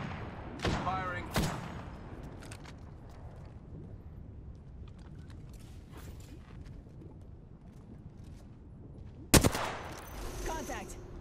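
Gunfire in the game Apex Legends: a few sharp close shots near the start, a long quieter stretch of faint background game noise, then a loud crack and clatter near the end.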